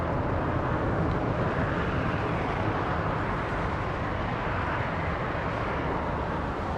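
A Lufthansa airliner at Los Angeles International Airport, heard as a steady, broad jet roar that holds at an even level throughout, with no voices over it.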